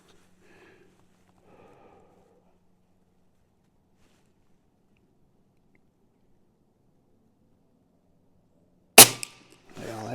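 A single sharp, loud report from a custom UX Notos air rifle firing a pellet, arriving abruptly near the end after a long quiet stretch with faint low hum.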